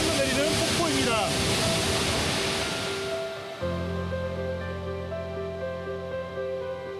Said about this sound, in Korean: 빙하가 녹아서 흘러내리는 폭포입니다.